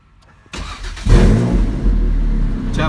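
A 2010 Rossion Q1 sports car's engine cranks over and fires up, opening with a sharp starter whir and then catching into a loud, rough, close idle that settles into a steady rumble.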